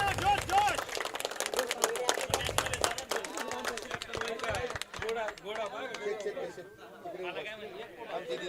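A crowd at a prize ceremony for a box cricket premier league tournament claps loudly in rapid, scattered bursts under lively chatter and voices, fading slightly toward the end.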